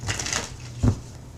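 Tarot cards are handled and shuffled, with a brief papery riffle early on and a soft thump near the end, quiet and close with no talking.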